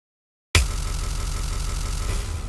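Beat loop warped in Ableton Simpler's Beats mode with loop back and forth mode, segments between transients bouncing forwards and backwards; a sudden loud start followed by a steady, rumbling, pulsing drone-like texture that continues to the end.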